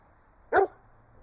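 A single sharp dog bark, close and clear, in an otherwise quiet room.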